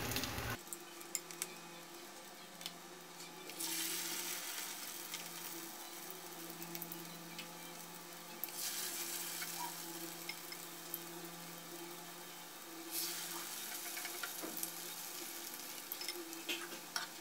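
Sesame coconut cake fries in a pan with a constant crackling sizzle that swells louder at times, joined by an occasional light clink from a utensil, and no one speaks.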